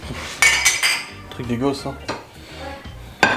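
Dishes and cutlery clatter and clink in a family kitchen as they are loaded into a dishwasher, with a few sharp knocks spread across the clip and a voice speaking briefly in between.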